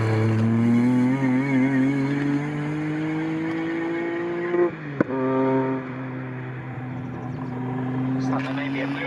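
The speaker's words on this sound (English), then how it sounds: "the 559 car, the Tate House Clio, I think just went past Lewis Field" Renault Clio race cars in a club race at Snetterton pass on track, a steady engine drone with shifting pitch and a brief sharp transient midway, heard beneath continuous commentary.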